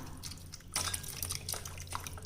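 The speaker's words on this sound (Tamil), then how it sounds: "இப்போ இதுலேயுமே நம்ம கொஞ்சம் நல்லா தண்ணி விட்டுக்கலாங்க." Water is poured over jamun fruit seeds and pulp in a bowl, a brief wet splashing and trickling at close range with soft drips, no talking.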